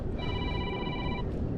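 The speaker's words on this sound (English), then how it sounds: "Let's see who's ringing here." A phone ringing outdoors while bass fishing on the Allegheny River: one steady electronic ring tone lasting about a second, moderately faint over constant wind and water noise.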